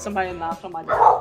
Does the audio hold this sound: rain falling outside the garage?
no